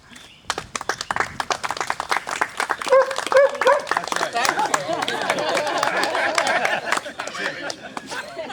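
A dog barks at a public gathering with a councilman present, sharp barks scattered amid laughter, applause-like clatter and a busy crowd murmuring throughout.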